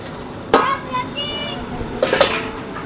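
Tomatoes dropped into a hot pan while cooking potato-pea puri bhaji, with a sharp clatter near the start and another burst of clinking and sizzling later, all close by; a quiet voice murmurs in between.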